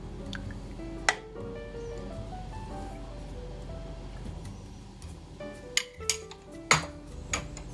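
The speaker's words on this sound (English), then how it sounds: "Now I'm going to stir it gently." Homemade Persian yogurt being stirred gently in a pot, soft scraping with a few sharp spoon clinks against the pot, louder toward the end, over a quiet hum.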